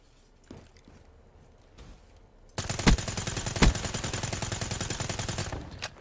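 Rapid automatic fire from a suppressed gun in Call of Duty: Black Ops 3, a dense fast burst of muffled shots lasting several seconds after a few quieter footsteps, with two sharper louder hits inside the stream.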